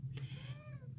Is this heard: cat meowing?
yes